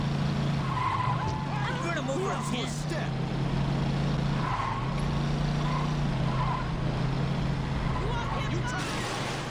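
Car in Saints Row 2 with a continuous loud engine drone and repeated tire squeals as it skids around corners, the engine pitch dipping and recovering with each slide.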